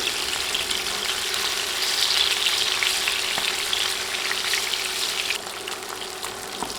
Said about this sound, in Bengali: পিসগুলো উল্টে এপাশও এক দেড় মিনিট ভেজে নিব